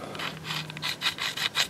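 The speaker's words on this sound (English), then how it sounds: "I'll just back the tap out, okay, and then that should chase the threads out enough" A threading tap being backed out of a wrestling mat cart wheel gives a steady, close metallic rasping and scraping in short repeated strokes, alone with no talking.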